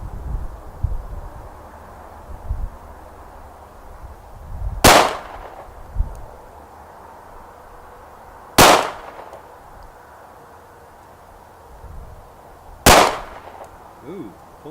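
A tiny Diamondback DB-9 pistol is fired three times by a gloved shooter. Each sharp, loud report rings out about four seconds apart over quiet background noise.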